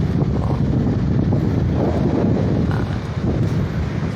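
Strong wind roars and buffets the microphone in a continuous, rumbling gust with no voices.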